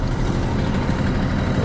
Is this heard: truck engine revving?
yes